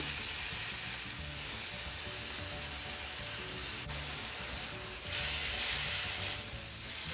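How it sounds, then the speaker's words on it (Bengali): Noodles fry in a pan with a soft, steady sizzle and hiss, fairly faint throughout and swelling slightly toward the end. "এই জন্য নুডলসটা রান্না করতেছি"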